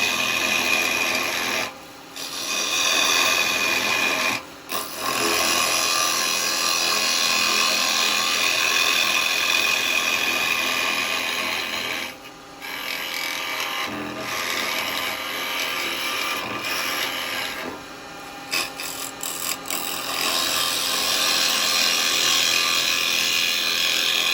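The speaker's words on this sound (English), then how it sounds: "I'm just going to use the square chisel from the Type 3 set and just remove some of this really nice and quick" Square chisel cutting a live-edge Laburnum bowl on a wood lathe: a steady, close, loud raspy shaving hiss running almost continuously, broken by a few brief pauses.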